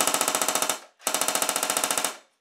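A pink H&K/Umarex G36C airsoft electric gun fires two full-auto bursts of rapid, evenly spaced mechanical clacks, close and crisp, with a brief pause between them.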